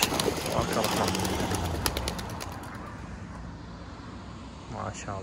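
Racing pigeons at a loft fill the air with soft cooing and a brief flutter of wings, while someone speaks throughout and a car passes near the end.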